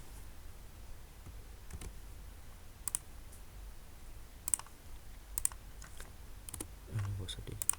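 Quiet computer keyboard typing with scattered sharp key clicks, including a Ctrl+V paste, sounding close and irregular against a faint background hiss.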